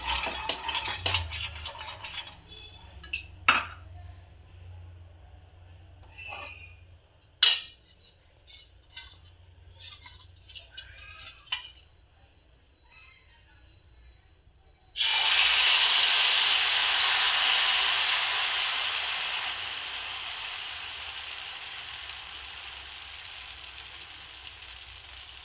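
Oil hitting a hot tawa under a wheat flour dosa bursts into a loud, steady sizzle that starts abruptly after scattered clinks of utensils and cookware and then hisses on continuously, slowly easing.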